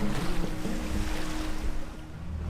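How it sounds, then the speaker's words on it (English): Sailboat motoring across the open Atlantic under light winds, a steady low engine drone blending with wash of water and wind along the hull, continuous and fairly loud with no talking. "We're currently motor sailing again, which is really annoying."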